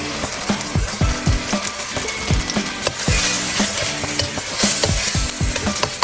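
Chopped onions sautéing in a pan with ginger garlic paste for a chicken tikka masala, a steady close sizzle broken by repeated sharp scrapes and clicks of a spoon stirring, with no talking.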